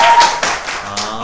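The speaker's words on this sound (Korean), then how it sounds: "박수 한번 주시죠" A few loud, close hand claps ring out in quick succession at a police live session, brief and sharp with short gaps between them.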